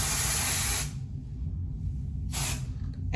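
Hair product sprays onto oily roots in two bursts of aerosol hiss, a long one of about a second and then a shorter one, loud and close, with no talking.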